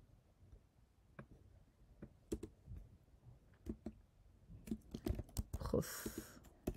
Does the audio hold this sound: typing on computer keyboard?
yes